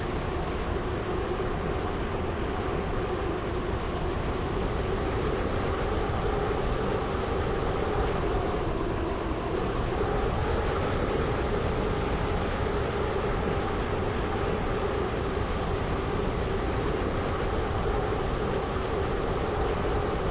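A passenger train in a video game rolls along steadily, a constant droning rumble of wheels and motor that stays even and unbroken from start to finish.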